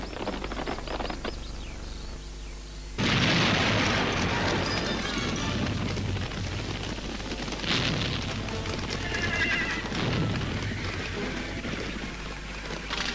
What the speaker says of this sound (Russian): Это Тимофеев сделал такой трюк. Подсечку лошадей в тачанке